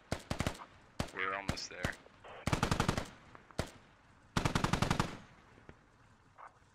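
Automatic gunfire in the military shooter game Squad, bursts of rapid shots in several clusters, loud and close, with a player's voice speaking briefly between volleys.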